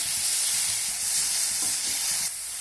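A medium-sized tomato with a pinch of salt cooks in a pan, giving a steady bright sizzle with soft stirring bumps underneath, dropping slightly quieter near the end, no voices.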